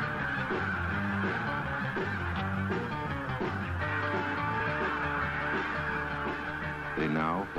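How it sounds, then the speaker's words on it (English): A flock of snow geese migrating south out of the Arctic honks continuously, many overlapping calls forming a dense, loud chorus, with a few sharp nearby honks near the end. "The snow geese that bred in the Arctic just a few months ago fly south to escape the deep"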